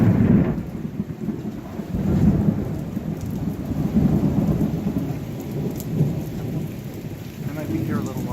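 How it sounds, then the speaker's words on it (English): Rain pours down hard with a constant hiss, and deep rolling thunder rumbles loudly and continuously beneath it, swelling and easing in waves. "Finally, the torrential pouring rain"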